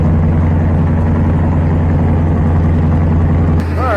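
A carbureted engine after winter carburetor tuning, held at high RPM with a loud, steady, close drone that continues without pause, then shifts slightly near the end.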